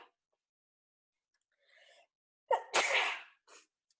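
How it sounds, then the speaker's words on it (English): A single sharp human sneeze, loud and close, follows a quick indrawn breath and ends in a short exhale. No other sounds. "Sorry, I'm gonna sneeze."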